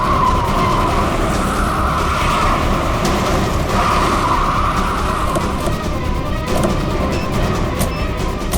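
A car skids to a stop with a long, loud tire screech and scraping over several seconds, sounding close, with a few sharp knocks near the end.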